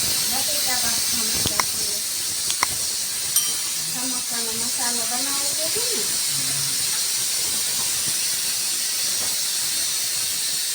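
Continuous hiss of steam escaping from a pressure cooker, with people talking briefly over it before the hiss carries on alone.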